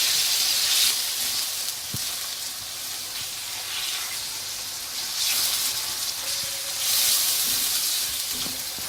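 Boneless chicken fries in a pan over medium heat, giving a steady loud sizzle and hiss with a few brief surges of crackling and some light stirring clatter.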